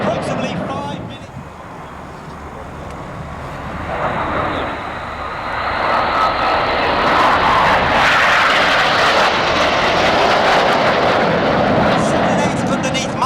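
RAF Red Arrows jets roar overhead during an air display at RIAT 2024, the noise swelling from a distant rumble to a loud, sustained pass while a commentator talks throughout.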